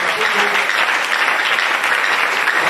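A church congregation bursts into loud, sustained applause with cheering, a dense close wall of clapping lasting a few seconds.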